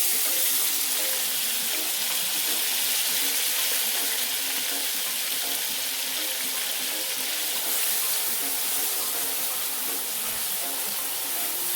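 Onions, tomatoes and peppers hit hot oil in a pot, giving a loud, steady sizzle that hisses continuously without pause.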